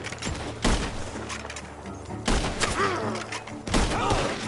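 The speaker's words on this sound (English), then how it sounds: "Gunshots are coming from that barn!" Gunfire rings out from a barn in the video game Red Dead Redemption 2, three loud shot bursts spaced a couple of seconds apart over a busy game backdrop.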